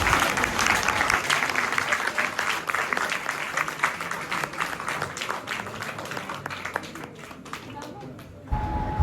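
An audience at a college seminar claps loudly and continuously, a dense sustained roll of applause that thins and fades toward the end, close and full.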